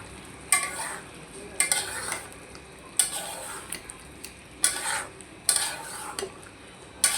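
Tatkini fish frying in a pan, a faint background sizzle punctuated by about six sharp metallic scrapes and clinks of a utensil stirring at roughly one-second intervals, close and without talk.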